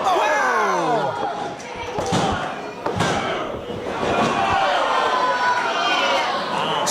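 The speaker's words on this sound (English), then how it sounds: "Slamming him down from the fireman's carry position." A heavy slam lands on the ring as a wrestler is driven down with a burning hammer powerbomb during a pro wrestling championship match, a booming thud amid loud crowd noise and excited commentary.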